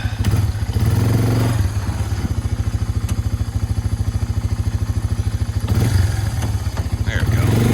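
A Honda 300 ATV pushing a snow plow idles and chugs with a steady, loud, close engine rhythm that rises slightly in effort, with brief clunks and a voice talking over it.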